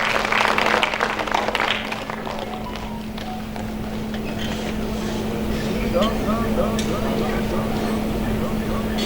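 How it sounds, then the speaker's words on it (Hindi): Dense applause from an audience at a spiritual fair fills the opening seconds, then thins into scattered clapping under a steady hum and background noise. "पुनः मैं चाहता हूं कि तालियों से आप उन्हें सहयोग प्रदान करें।"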